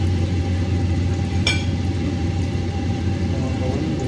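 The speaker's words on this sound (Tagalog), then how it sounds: "medyo maingay lang kasi ang exhaust inon ko para yung usok" A kitchen exhaust fan runs steadily through the whole stretch, a constant close hum with a low drone, while breakfast is cooked; one brief click or clatter cuts in early.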